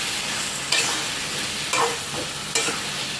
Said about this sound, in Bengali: ভালো করে মিক্স করে দিচ্ছি।